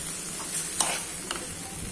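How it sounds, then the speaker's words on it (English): Chicken noodles with capsicum and other vegetables being stirred in a hot pan give soft, steady sizzling with a couple of faint scraping clicks, fairly quiet and without voices. "Now I'm mixing them very well."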